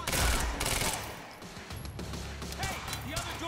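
Gunfire in the video game Quantum Break: a loud burst of rapid shots up front, followed by scattered sharper reports and impacts amid game effects, with voices talking throughout.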